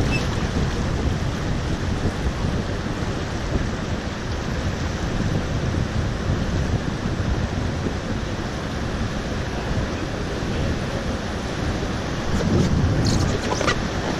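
Whitewater of Stern's Rapid on the Tuolumne River roars as a raft drops sideways into a hole, a loud steady rush of churning water with wind buffeting the microphone throughout and a brief surge near the end.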